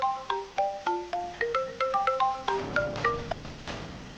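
A mobile phone ringtone plays for an incoming call, a quick melodic run of bright plucked tones repeating in rhythmic phrases at moderate volume, with no talking.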